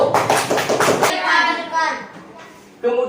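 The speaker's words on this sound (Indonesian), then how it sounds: "Tepuk tangan untuk kelompok 1." Children clapping together in a classroom to applaud the first group, a dense burst of hand claps over the first second, then a teacher's voice speaking, with a brief return of claps at the end.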